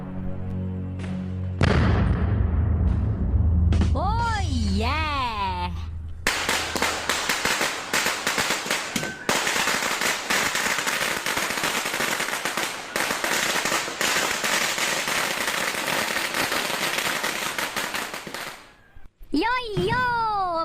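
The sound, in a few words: potato bomb firecrackers exploding at Diwali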